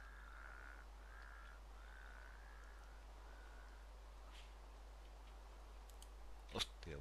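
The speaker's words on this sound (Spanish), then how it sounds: "aquí habla el pájaro y todo" A bird caws in the Minecraft mod Tolkiencraft, a few separate calls repeating steadily over a low, constant hum, faint and alone, with a sharp click near the end.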